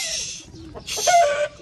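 A rooster clucks and gives a short, strained call nearby, loud and close, with faint background noise.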